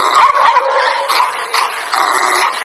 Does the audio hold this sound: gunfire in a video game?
no